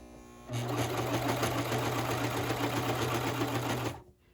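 A sewing machine stitching pajama pants runs in one steady, loud, rapid mechanical whir for about three and a half seconds, then stops abruptly.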